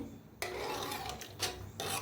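A spoon scrapes and stirs a dill vegetable dish in a pan, several short rasping strokes after a brief quiet start, close and fairly soft, with no talking.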